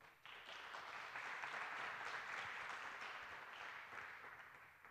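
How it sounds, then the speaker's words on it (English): Steady audience applause at a hacker camp talk, a broad wash of many hands clapping, distant and quiet, sustained for several seconds before tapering slightly. "Give him a warm applause"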